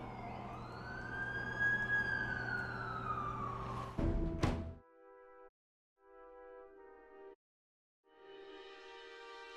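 Ambulance siren in the video game The Amazing Spider-Man 2, a loud wailing sweep over vehicle rumble for about four seconds that cuts off abruptly, followed by quieter intermittent tonal ambience with gaps of silence.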